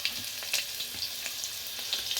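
Onion fries in a pan right after tempering, a bright steady hiss with small crackling pops up close and no voices.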